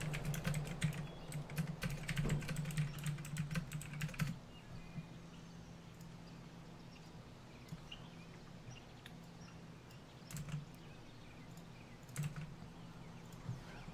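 Rapid clicking on a computer keyboard, dense and close for about four seconds, then sparser scattered keystrokes with pauses over a low steady hum.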